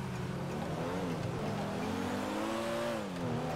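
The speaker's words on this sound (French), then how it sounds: "je vous présente la Porsche 911 Turbo" A Porsche 911 Turbo driving in GTA 5, its engine droning steadily with rising and falling pitch as it accelerates and shifts, loud and close with no voices over it.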